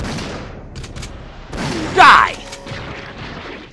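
A shotgun firing in Resident Evil 3: Nemesis lands as one loud blast in the middle, with a shouted voice around it and a quiet game ambience before and after.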